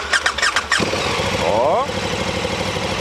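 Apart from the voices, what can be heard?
KTM 1290 Super Duke GT motorcycle engine starting and idling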